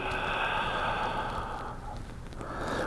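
A long, steady exhale released after a held breath during a vinyasa yoga breathing exercise, close and clear, tapering off near the end with a slight renewed rush of air.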